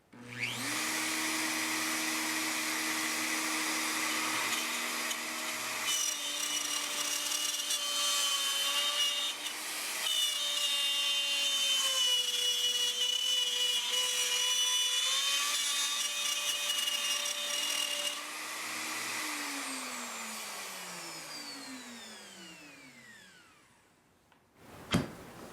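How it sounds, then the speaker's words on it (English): A router fitted with a 1/4 inch spiral bit cuts scrap plywood on a circle jig, making a loud, continuous high whine with a shifting pitch and a rough cutting rasp. At the end it spins down and falls silent. "I've got a 1/4 inch spiral bit in the router, so we'll see how it does."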